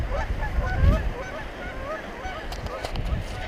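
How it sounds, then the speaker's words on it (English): Geese honk near a river crossing in the Virgin River Gorge, Arizona, giving a scattered run of nasal calls over steady outdoor background noise, fairly close and moderately loud. "Oh, geese."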